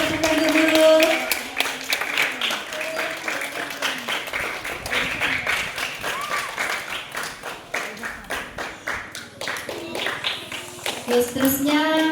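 A room full of people at a school STEM programme claps steadily for several seconds, the applause thinning in places, with some voices and music-like tones underneath.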